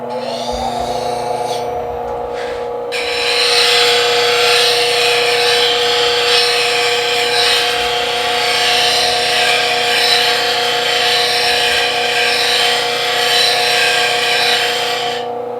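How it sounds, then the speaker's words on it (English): A wooden coffee spoon's heel being ground down with a power tool: a steady, loud abrasive whine with a harsh grinding hiss that starts after a brief lead-in and runs continuously to the end. "I'm gonna grind this heel off just a little bit more"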